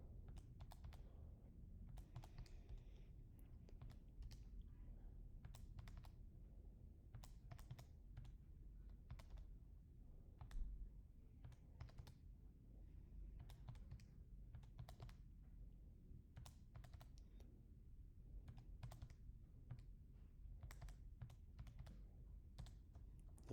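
Numbers being typed into a calculator: a long run of faint, irregular key taps over a low steady room hum, with no talking.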